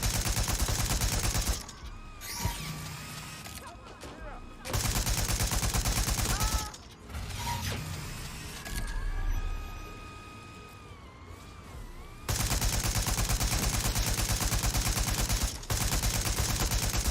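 Rapid automatic gunfire in a video game with guards and a turret: long, loud sustained bursts of shots, broken by quieter gaps with electronic tones and game sounds.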